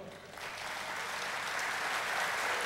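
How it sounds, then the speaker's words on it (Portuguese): Audience applause for João at a Catholic talk, a steady wash of many hands clapping that swells slightly after the first half second and holds evenly throughout. "uma salva de palmas para o João."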